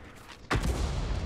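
A single Lorraine 155 mle. 51 artillery gun fires in World of Tanks, a sharp, loud boom cutting in suddenly after a quiet moment and trailing into a rumbling decay.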